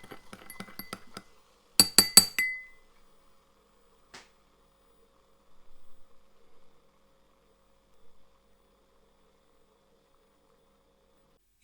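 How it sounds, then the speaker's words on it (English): A spoon clinks rapidly against a glass while stirring a lemon juice and baking soda mixture, a quick run of sharp, close taps followed by a few faint scattered knocks and near silence. "Stirring the mixture with a spoon helps everything to react quickly."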